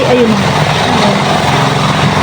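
Rice field machine engine running steadily nearby, a continuous low mechanical drone heard under someone speaking.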